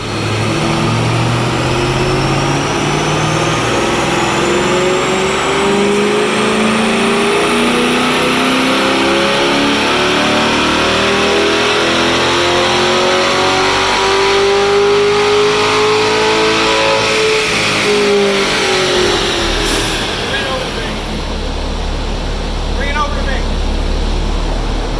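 A 2020 C8 Corvette fitted with aftermarket headers pulls hard on a dyno, its engine note climbing steadily in one long, loud continuous rev before easing off near the end; no talking over it.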